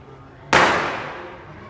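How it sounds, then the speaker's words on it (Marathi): A single Diwali firecracker bursts with a sudden loud bang, then a long hissing, crackling decay that slowly fades over about a second, close by. "आज तर खूप सारे फटाके फुटणार आहेत"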